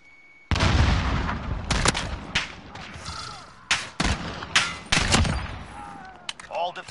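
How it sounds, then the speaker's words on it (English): Heavy booms and gunfire from the video game Modern Warfare, including a grenade explosion, arriving as a loud opening blast followed by several sharp bursts and thuds, with faint voices underneath. "Grenade out!"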